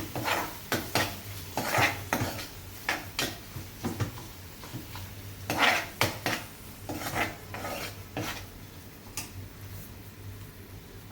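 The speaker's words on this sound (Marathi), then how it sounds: "टोमॅटोला छान मिक्स करून घ्यायचे" Spoon stirring finely chopped tomato and spices in a pan for dal palak, a run of scraping, clinking strokes in uneven bursts, close and fairly quiet.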